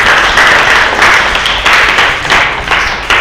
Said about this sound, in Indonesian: Kita beri tepuk tangan untuk yang tadi bertanya.